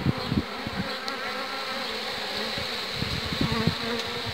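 Honeybees buzz loudly and continuously at an opened hive after the queen has emerged from her cell, a dense, steady drone close by with a few brief knocks and no voices.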